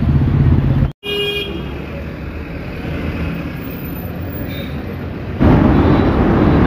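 Vehicles pass steadily on a highway with a continuous roar of traffic, and a sharp horn toot sounds near the start against the dense background.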